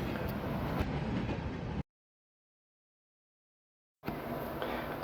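A passing train, heard while watching trains trackside, gives a loud broadband rumble and rattle of cars, then cuts to total silence, then the rolling roar resumes.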